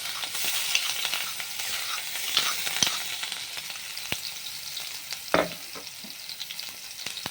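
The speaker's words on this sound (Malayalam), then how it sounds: "അപ്പം നമ്മുടെ ഇഞ്ചി വെളുത്തുള്ളി പേസ്റ്റ് ചതച്ചത് ഇതിലോട്ട് ഇട്ട് കൊടുക്കാം." Crushed ginger-garlic paste hits hot oil with curry leaves in a pan for Kerala chickpea curry, giving a steady close sizzle and hiss broken by a few sharp stirring clinks and a louder spatter near the end.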